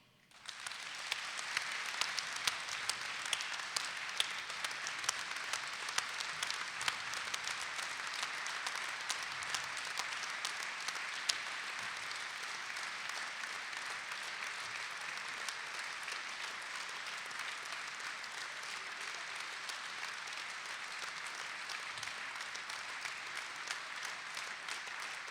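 A seated audience at a town New Year's greetings event in Lançon-Provence applauds in tribute, dense sustained clapping that holds evenly for over twenty seconds, moderately distant and free of talk.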